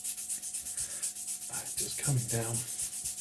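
Rhythmic rasping strokes of sanding the back of a craft piece flat by hand, steady and close throughout, with a brief spoken remark partway through.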